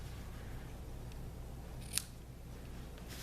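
A single short, crisp snip of scissors trimming ribbon tails sounds over a low, steady background hum.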